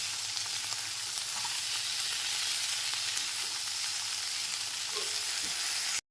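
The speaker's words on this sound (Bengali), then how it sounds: "গ্যাসের ফ্লেমটা মিডিয়ামে রেখে সবজিগুলো ভেজে নেব" Vegetables and peas fry over a medium gas flame in a steady, close hiss of sizzling that holds for about six seconds, with faint scraping touches near the end.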